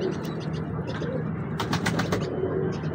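A large female pigeon coos softly nearby, with a quick flutter of wings partway through and people talking in the background.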